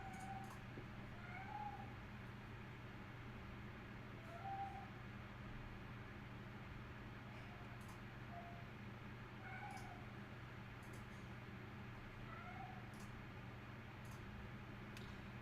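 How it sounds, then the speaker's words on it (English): A cat meows repeatedly in short, rising calls spaced a second or two apart, fairly faint against a steady low background hum, with no talking. "the cat is going to town there"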